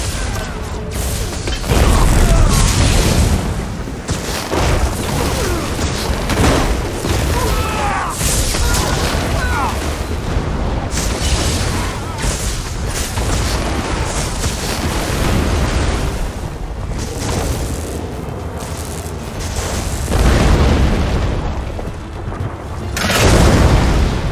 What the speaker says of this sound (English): One ballista bomb, charge of kindle pitch ready.